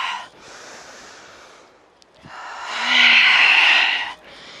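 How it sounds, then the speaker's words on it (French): A person exhales forcefully during a Pilates exercise while contracting the glutes, producing a breathy, snort-like rush of air, with a short first breath, a pause, then a longer, louder exhale near the mic. "J'expire."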